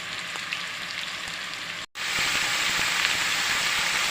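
Zucchini and onion sizzle in a hot pan, a steady close hiss and crackle that cuts out for an instant, then returns slightly louder.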